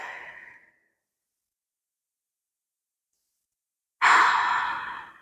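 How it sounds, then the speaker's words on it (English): Deep breathing during a meditation exercise: a soft exhale trailing off, a few seconds of silence, then a loud, long close-up breath out. "Breathe deeply."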